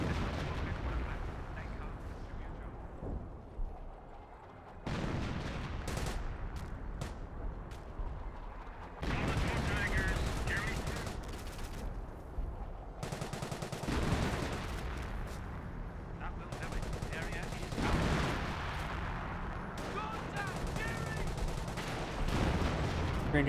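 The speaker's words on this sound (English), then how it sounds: "More officer artillery, gets a direct hit there, pins down everything, falls back." Artillery shells and machine-gun bursts from Company of Heroes: dense, overlapping booms and rapid gunfire crackle almost continuously, with heavier blasts punctuating the barrage and faint talk now and then.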